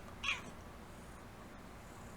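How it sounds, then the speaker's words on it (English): A house cat gives a single short, upset meow near the start, fairly close, then only a low room hum follows with no talking. "the cat was upset that I have stopped petting her"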